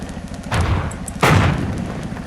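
Two heavy booming tank cannon shots in quick succession in the video game World of Tanks, loud and close with a rumbling decay after each blast, no voices.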